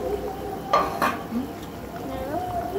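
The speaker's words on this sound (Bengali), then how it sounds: "মাছটা নেড়ে নেব" Fish is stirred in a cooking pot of boiling water for a Bengali curry, with a couple of sharp spoon scrapes and clinks against the metal over a soft bubbling background, no voices.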